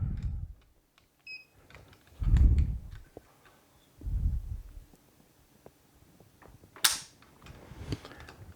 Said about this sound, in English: when we pull the trigger,